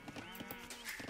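Cows in Age of Empires 2 Definitive Edition give a brief, faint livestock-like lowing amid game sounds, lasting about a second.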